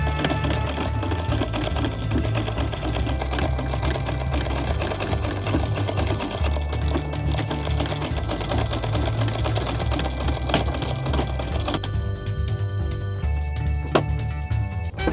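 Vintage sewing machine running steadily as it stitches a second row on a pair of shorts, a dense continuous mechanical whir and clatter at moderate level with no voices.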